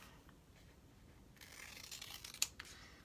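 Scissors snipping through craft pieces for a chalk-paint farmhouse project, a short run of faint crisp cuts building toward a sharper snip near the end, close and quiet with no talking.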